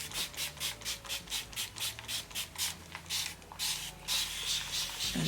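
Hand spray bottle mists water onto hair in a quick repeated series of short hissing bursts, about two per second, close and fairly quiet, with no talking.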